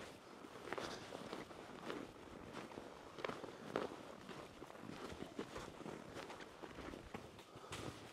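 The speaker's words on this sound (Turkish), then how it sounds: "Şu an sadece benim ayak seslerim var." Footsteps walking along a quiet mountain road on Uludağ, a steady run of close, soft crunching steps heard alone with no other sounds around.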